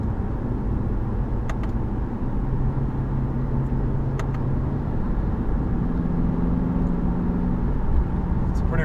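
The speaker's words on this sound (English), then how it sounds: "Those were some downshifts." A 2015 Lexus RC F engine hums inside the cabin in manual mode, its tone shifting with brief rev changes as the paddle shifters drop gears, while people talk over it.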